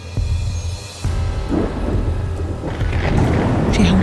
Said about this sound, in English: She held her ears and trembled to the loud rumbling of thunder.